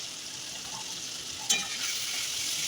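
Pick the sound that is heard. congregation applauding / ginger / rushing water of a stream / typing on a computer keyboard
ginger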